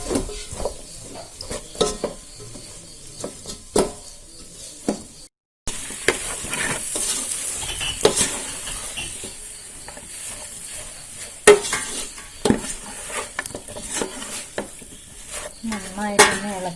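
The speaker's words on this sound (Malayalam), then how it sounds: "നന്നായിട്ടൊന്ന് ഇളക്കി കൊടുക്കുക." Cooked beef is stirred into a spicy masala in a pan for a Kerala-style tapioca biriyani. Repeated scraping and clinking of a spoon against the pan sound over a soft sizzle, with one brief pause.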